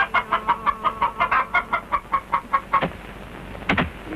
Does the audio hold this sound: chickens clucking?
yes